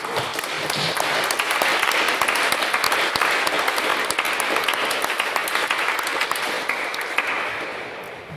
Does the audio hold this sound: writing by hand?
no